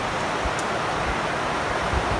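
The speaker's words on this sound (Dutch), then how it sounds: "het geluid van het water is gewoon top" Rushing water heard from a balcony at Jaw Jaw Sula in Suriname, a constant, even broadband roar with no voices.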